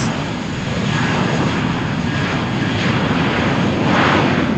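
An airliner accelerates down runway 13 at Malaga Airport on a stormy morning, its engines a loud, steady, broadband roar that holds close and constant throughout.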